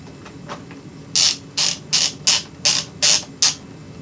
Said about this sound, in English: now I'm going to put these screws on the spoiler part of the fairing